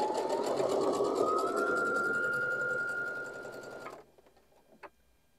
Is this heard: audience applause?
no